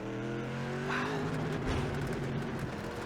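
A race car engine in a sim racing video game pulls at full throttle, a steady buzzing drone that climbs slightly in pitch, quiet and continuous.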